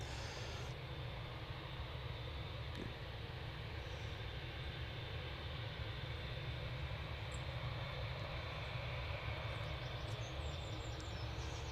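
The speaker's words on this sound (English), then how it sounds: "Okay, so TUI Dreamliner off to Cancun" A TUI Boeing 787 Dreamliner departs from an airport, its jet engines giving a steady, low, broadband roar that holds at a moderate, distant level throughout.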